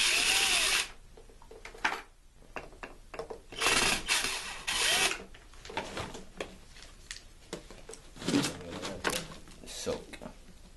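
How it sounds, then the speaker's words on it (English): A power drill whirs in several short bursts removing screws from a Bissell Lift-Off Turbo vacuum, close and fairly loud, with scraping and handling noises between the bursts. "I'll take our drill, take the screw"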